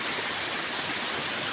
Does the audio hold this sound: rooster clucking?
no